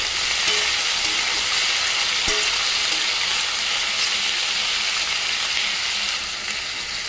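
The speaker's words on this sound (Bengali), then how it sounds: "ভালো করে কষে নেবে" Cauliflower for a spicy stir-fry sizzles loudly and steadily in a pan, with a dense frying hiss throughout. There is one sharp utensil knock near the middle. No talking.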